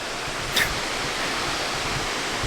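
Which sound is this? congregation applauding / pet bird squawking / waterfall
waterfall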